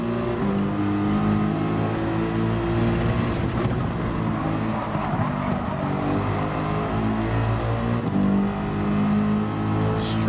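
Race car engines from a GT3 racing video game drone loudly and continuously as a Porsche comes up and overtakes, with layered engine tones shifting in pitch as the cars pass.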